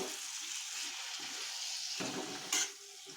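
Red pumpkin pieces with spices being stirred and fried in a pan, giving a soft, steady sizzle with a scrape of the spoon and a brief louder clatter near the end, fairly quiet throughout.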